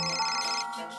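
A telephone ringtone plays briefly, a clear, loud musical tone for about a second, alone and without speech.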